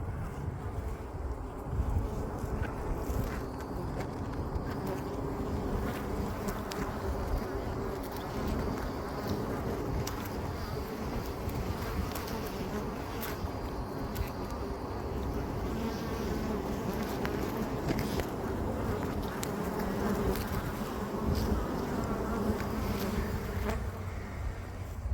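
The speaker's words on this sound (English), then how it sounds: "these bees coming in and out of it" Honeybees swarming in and out of an oak tree, a dense continuous buzzing hum throughout at close to moderate distance, steady with slight wind noise and no voices.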